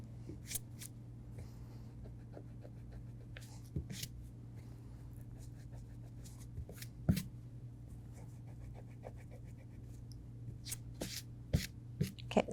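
Eyebrow lines drawn on synthetic practice skin being erased, giving soft, faint scratchy rubbing strokes in irregular bursts over a steady low hum, with no talking.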